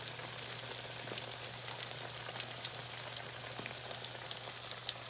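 Atayef pancakes fry in a hot pan, a steady, close, quiet sizzle with small crackling pops throughout and a faint low hum underneath.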